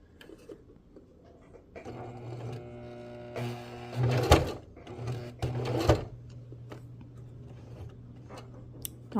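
A sewing machine stitches fabric for a simple beginner project, humming in short, fairly quiet runs broken by clunks and knocks, close by.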